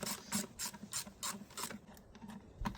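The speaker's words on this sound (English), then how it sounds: "So we're going to be using a 10mm socket for that." A ratchet with a 10mm socket loosens a stud bolt on the air filter box of a 2019 Suzuki Swift, giving quick bursts of clicking pawl strokes, close and quiet, with no talk.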